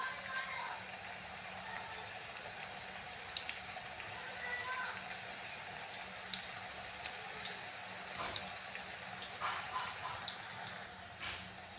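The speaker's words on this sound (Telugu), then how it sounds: "చూడండి ఇలా మంచి గోల్డ్ కలర్ వచ్చేలాగా ఫ్రై చేసుకోవాలండి" Small lumps of onion pakodi sizzle and crackle steadily in hot oil, a dense fizzing hiss with scattered pops running throughout at moderate, close range.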